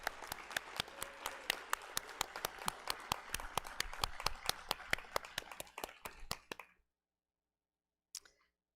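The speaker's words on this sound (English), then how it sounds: "I think they deserve a round of applause" An audience at a nursing pinning ceremony gives a brisk round of applause, sharp individual claps ringing out steadily before stopping abruptly, followed by silence and one faint trailing sound.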